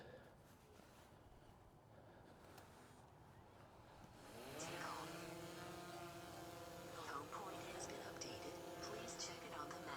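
A DJI Mavic 3 drone lifts off on an automated takeoff at Tully Park. After a few quiet seconds its propellers spin up into a rising, whining buzz that settles into a steady close hum with shifting harmonic tones.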